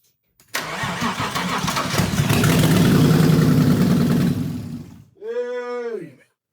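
A car engine cranks and catches, roaring steadily for several seconds before cutting off, followed by a brief rising whine.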